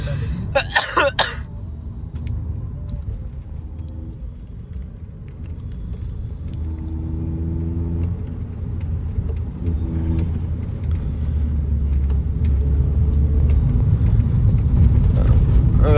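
A stage 2 tuned car engine idles with a steady low rumble that grows slightly louder over time, preceded by a brief cough-like burst near the start.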